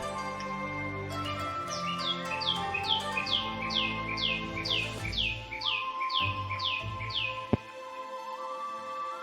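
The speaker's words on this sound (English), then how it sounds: "Hope you can hear the bird." A bird sings outdoors, a clear run of about a dozen evenly spaced, rapidly repeated bright descending notes, fairly close and distinct over a soft steady background hum, with no talking.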